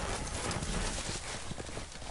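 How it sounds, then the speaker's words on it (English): Horse hooves galloping in Telltale's Game of Thrones video game, a rapid steady clip-clop beat, faint and dense, with no voices. "there goes my horse"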